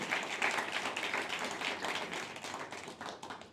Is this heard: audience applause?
yes